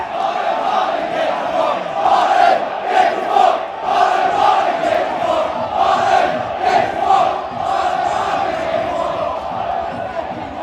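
Football crowd at a Rangers away match in Livingston, a loud sustained roar of massed voices chanting in rhythmic surges throughout, near and full.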